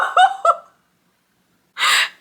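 A person makes two short voiced sounds, then after a pause draws one deep, breathy inhale, close and clear with nothing else around it.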